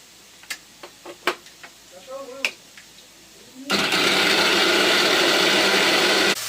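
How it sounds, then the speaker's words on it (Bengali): Ginger ground into paste for dal in a kitchen grinder: a few sharp knocks and clicks, then a loud, steady motor whir that runs for several seconds and cuts off abruptly. "এখন এই যে ডালের জন্য আদাটা পেস্ট করে নেব"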